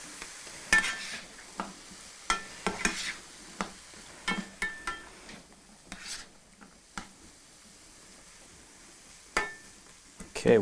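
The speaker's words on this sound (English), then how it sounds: "Now I personally like to put just a little bit of water in there, just so they have a little bit of a sautéing to them." Vegetables sauté in a pan with a little water, giving a soft steady sizzle broken by intermittent scraping and clinking strokes of a utensil stirring them, fairly quiet and close.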